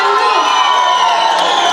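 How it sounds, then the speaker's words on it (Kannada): A crowd at a film press meet cheering and whooping for the heroines, a loud, continuous, close wash of raised voices with no pause. "ಒಂದು ಸ್ವಲ್ಪ ಚಪ್ಪಾಳೆ ಬರ್ಬೋದು"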